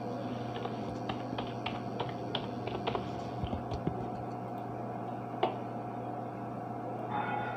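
A computer keyboard clicks in short quick bursts of keystrokes during a lesson on Word Art in office software. The typing is faint and sits over a steady hum with no talk, then stops partway through.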